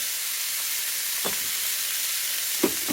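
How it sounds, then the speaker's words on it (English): Ribs searing in a pan over high heat, a steady broad sizzle running throughout with two brief scraping or shifting knocks from the pan, close and moderately loud, no talking. "I've got this on high heat, and I'm just going to sear it"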